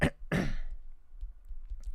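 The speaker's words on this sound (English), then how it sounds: "Cough right into the mic." Two quick, harsh coughs delivered right into a microphone, loud and close, followed by a low rumbling hum.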